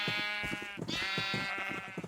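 Several sheep in the blocky building game Unorthoblocks bleat in quick overlapping calls, a steady chorus of nasal wavering cries filling the whole short stretch at close range with no talking.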